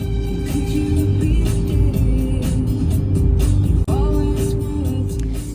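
A car on a 50-mile commute drones steadily from inside the cabin, a loud continuous low engine and road rumble with one brief dip, and no talking.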